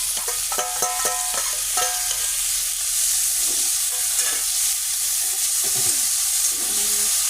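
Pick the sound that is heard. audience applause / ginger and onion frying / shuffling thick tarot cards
ginger and onion frying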